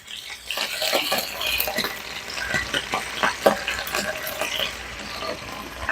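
Pork chops fry in a hot pan, with grease popping and crackling in steady bursts of sharp close spatters over a continuous sizzle.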